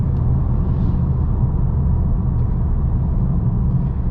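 Steady interior rumble of a Mercedes A-Class 250e AMG Line plug-in hybrid on the road, a constant low drone of tyres and drivetrain heard close and unbroken.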